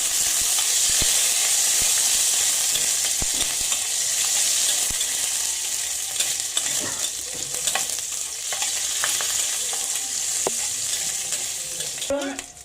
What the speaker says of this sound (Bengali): এবারে 5 ফোড়নের সাথে আমি কাঁচা লঙ্কাগুলো ভেজে নেব।